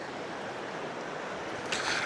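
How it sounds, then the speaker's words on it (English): Fast-moving river water rushing steadily past at a fishing spot, a continuous broadband wash that stays fairly loud throughout, with a brighter splash near the end. "This little area right here is pretty deep, so I got to be kind of careful because the water is moving pretty fast."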